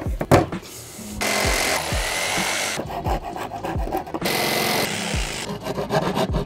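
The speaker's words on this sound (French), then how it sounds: "Je viens de couper deux planches." Rhythmic rasping strokes of a hand saw cutting through wooden boards, loud and close, in several bursts separated by brief knocks and pauses.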